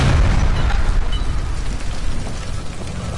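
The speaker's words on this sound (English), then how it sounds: "Shoot the gas line, Cole, we're out of here" A gas line blows up in the video game L.A. Noire, a loud, dense explosion roaring at close range and rumbling on for about three seconds with no voices over it.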